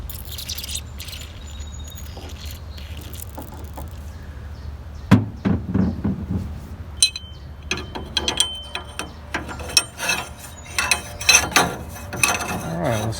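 A ratchet wrench works at a stuck radiator bolt on a 1963 Mercury with a 390 FE engine, quiet at first, then a run of sharp clicks and metal knocks in uneven bursts, close up.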